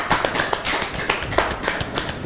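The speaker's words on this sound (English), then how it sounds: "Please can you give him a round of applause?" Audience applause at an evening event: a burst of scattered hand clapping, moderately loud and fairly even for a couple of seconds, with no talk.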